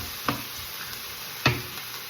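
Pasta cooking in a home kitchen pan, with a low steady sizzle broken by two sharp stirring scrapes, close by and with no talk.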